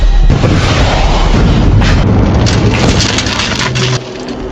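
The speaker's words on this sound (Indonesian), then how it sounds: "memanfaatkan sebuah televisi untuk meredam efek ledakan dari basoka" A bazooka blast in an action film lands as a loud, dense explosive roar with crackling debris, sustained and heavy before easing off near the end.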